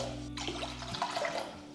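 Water is poured from glasses into a cooking pot with rice for mutton pulao, giving a brief, soft splashing and gurgling close by at low volume.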